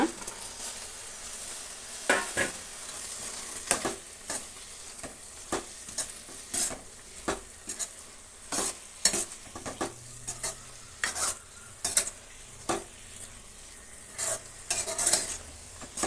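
Soya chunks stirred in a sizzling pan for soya gravy, with a soft continuous frying hiss broken by repeated sharp scrapes and clacks of a spatula against the pan, close and clear with no talk.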